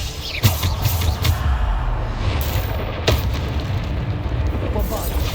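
The Bombarda spell exploding in Hogwarts Legacy, with two punchy booms, one near the start and one midway, standing out from a loud, busy rumble of combat noise.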